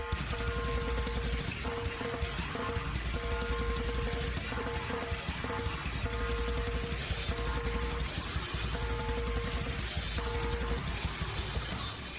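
Recording of an extreme metal song, a dense continuous wall of distorted noise with blasting snare, loud and unbroken throughout without talk.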